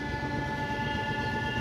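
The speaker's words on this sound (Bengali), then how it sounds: "আপ লোকাল ট্রেনটি ব্যান্ডেল রেলওয়ে জাংশন অভিমুখে যাচ্ছে।" An up local train rolls toward Bandel railway junction, its carriages painted with advertisements, producing a steady continuous rumble with sustained tonal whine, close and unbroken, no voices.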